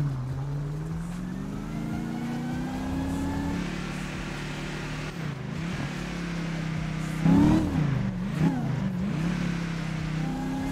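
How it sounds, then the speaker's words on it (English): A police car in a roleplay video game revs and idles with a steady engine drone, rising and falling in pitch as it accelerates, loud and close with no talk. "Love the sound of that car with the lights."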